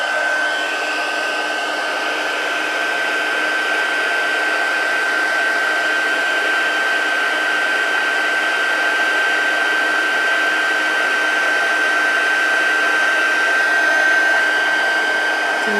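A heat tool melts embossing powder into a shiny metallic finish on a Stampin' Up! card resting on a heat-tolerant cutting board, giving a steady, even blower whir with a thin high whine that runs unbroken throughout, with no talking.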